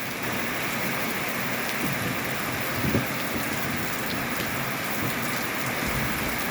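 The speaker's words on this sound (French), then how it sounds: "Il pleut." Steady rain patters softly on surfaces, a continuous gentle hiss with no voices.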